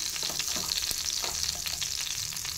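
Dry red chillies, chana dal, urad dal and cumin fry in hot oil, giving a steady close crackling sizzle with light stirring scrapes throughout, no voices.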